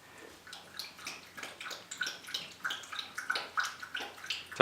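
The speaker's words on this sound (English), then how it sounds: "Sorry, it's my dog drinking water." A dog lapping drinking water close by, quick rhythmic wet laps in a steady series of small splashy bursts, with no talk.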